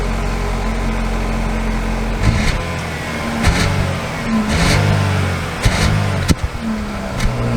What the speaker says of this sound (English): Setting off in the Equinox Premier.